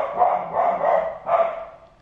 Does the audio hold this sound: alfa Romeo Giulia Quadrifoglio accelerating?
no